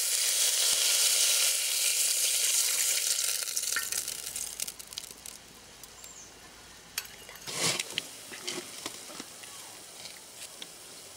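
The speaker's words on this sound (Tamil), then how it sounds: "இந்த நெய்யோடையே நல்லா பாலை ஊற்றி காய்ச்சிடலாம்" Loud, dense sizzling and hissing as milk is poured into hot ghee, settling after a few seconds into a softer bubbling crackle, with a brief louder flare near the end.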